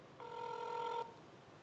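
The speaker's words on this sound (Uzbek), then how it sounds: "Mana gudok ketmoqda Abdukarim akaga." Telephone ringback tone on a call to a contest winner: a single steady electronic tone lasting just under a second, fairly faint, with no speech.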